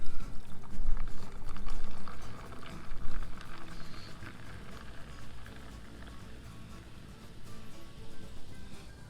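Fizzy ranch water poured into a glass, a steady close pour of liquid with crackling carbonation that starts strong and gradually settles into a softer fizz, with no talking.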